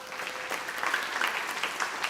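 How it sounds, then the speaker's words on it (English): A round of applause at a Scouts troop Court of Honor, a crowd clapping steadily and moderately loud throughout, with no one speaking over it. "How about a round of applause?"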